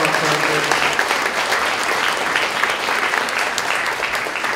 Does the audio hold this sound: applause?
yes